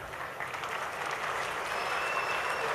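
Large crowd applause at a religious public gathering with a revered seer in Karnataka, broad sustained clapping that swells slightly over nearly three seconds.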